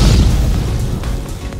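A loud, close July 4 fireworks burst at Six Flags Fiesta Texas, a single deep boom that rolls off into a rumbling decay.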